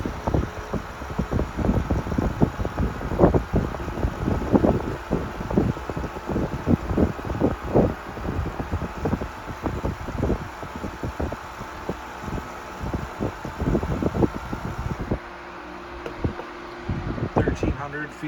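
A 1973 Frigid (Mitsubishi) GT16-S 16-inch oscillating fan runs on high speed, giving a steady close airy whoosh with a faint motor hum and a windy buffeting texture, running on without a pause.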